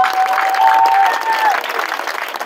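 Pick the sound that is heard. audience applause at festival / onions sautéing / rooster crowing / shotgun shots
audience applause at festival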